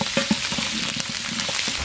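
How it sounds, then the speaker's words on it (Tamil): Mustard seeds and curry leaves frying in hot oil for a cabbage stir-fry: a steady close sizzle with scattered small pops and crackles, no speech. "முட்டைக்கோசு பொரியலுக்கு எண்ணெய் சூடாயிட்டு கடுகு சேர்த்துக்கலாம். கடுகு நல்லா பொரிஞ்சிச்சு, கருவேப்பிலை சேர்த்துக்கலாம்."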